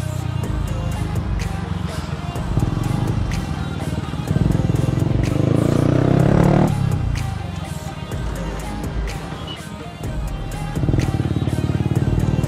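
Motorcycle with a modified exhaust rides past at full speed, its loud engine building to a rasping peak mid-pass then fading, with revving surges and clatter throughout.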